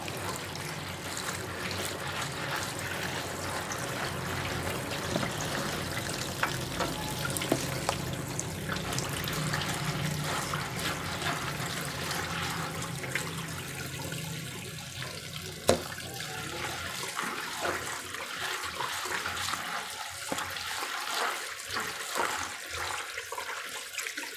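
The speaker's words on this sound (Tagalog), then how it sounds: "Kailangan hugasan ng maigi." Beef tongue being washed under a running tap, a steady splashing stream of water near and alone, easing into lighter trickling and dripping toward the end.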